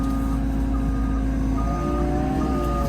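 A farm vehicle beeps steadily as it reverses, repeated warning tones over a continuous low engine rumble, close and moderately loud, with no talk.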